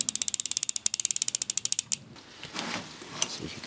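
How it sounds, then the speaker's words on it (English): Rapid ratchet clicking from a bicycle freewheel spinning, a steady run of sharp evenly spaced ticks close up that stop after about two seconds, followed by softer rustling mechanical noise. "See if you could hear this satisfying bike noise here."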